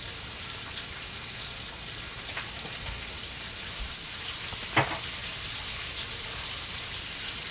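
Turmeric, chili powder and ground coriander sizzling in hot oil for a green bean and potato curry, a steady close crackling fry with a couple of brief louder pops.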